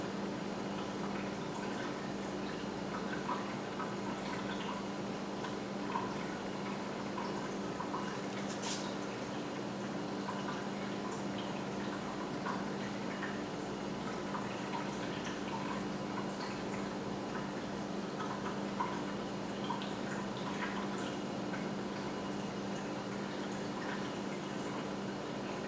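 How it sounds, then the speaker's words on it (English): A pet water fountain trickles steadily indoors, a faint continuous burble and drip with a low pump hum beneath, unchanging throughout. "You can hear water trickling. It's the water fountain for my pets."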